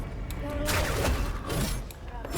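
Rapid weapon fire in the team shooter game Paladins, bursts of shots overlapping busy in-game effects and a steady hum from start to end.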